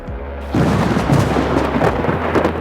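Thunderstorm on a dark night, with a loud low rumble of thunder rolling in and steady heavy rain hissing underneath throughout, close and full, no voices.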